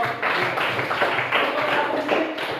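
A classroom audience claps for a group of junior high school students at a coding and artificial intelligence training session, a brief, dense burst of applause with no voices over it.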